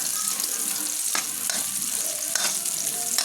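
Garlic sautéing in a hot pan gives a steady close sizzle and crackle, broken by a few stirring scrapes, with no talk.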